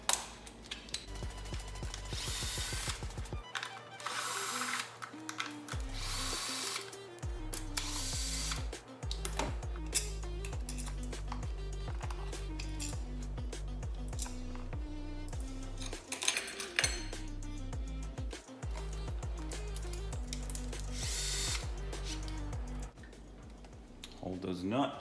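A power tool zips nuts off a Genesis Coupe 3.8 Turbo in repeated ratcheting, whirring bursts with short pauses between them, loud and close, while a person talks at times.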